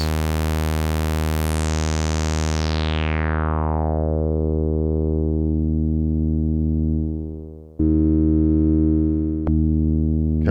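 A buzzy Behringer PRO 800 or Prophet 600 synth tone whose bright resonant filter sweeps downward over several seconds, then a brief dip and the tone returns with a click.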